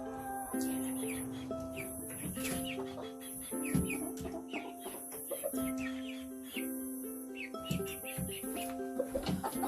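Buff Brahma chickens among other hens clucking in repeated bursts, overlapping calls and short squawks from several birds close by, with a faint high tonal hum running through.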